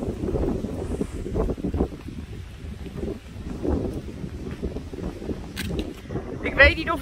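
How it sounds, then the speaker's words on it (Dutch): Heavy wind buffets the microphone in a constant low rumble, with faint voices and movement underneath. "Er is heel veel wind."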